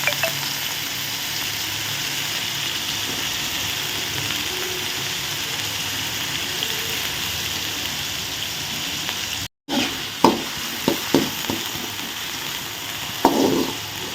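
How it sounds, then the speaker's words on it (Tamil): Potatoes fry in a pan for Tamil-style potato rice: a steady, close sizzle hisses throughout, followed by a few sharp clinks and scrapes of stirring near the end. "உருளைக்கிழங்கு போட்டு முதல்ல இதை வந்து ஒரு முக்கால் வாசிக்கு ஃப்ரை பண்ணுங்கள்"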